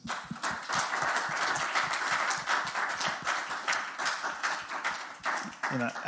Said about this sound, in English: So I'd like everybody just to join in a quick round of applause for the speakers.